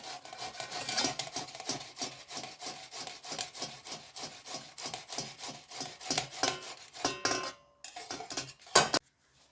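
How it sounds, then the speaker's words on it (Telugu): Potatoes are rubbed over a grater in quick rhythmic rasping strokes, close and loud, steady for several seconds before a brief pause and a final few scrapes, with no speech. "ఇప్పుడు మనం గ్రేట్ చేసుకోవాలండి"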